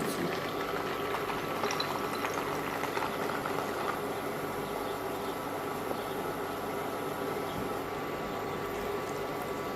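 Beaten eggs for a mint omelette hit a hot frying pan, with a steady close sizzle and bubbling hiss that continues evenly throughout.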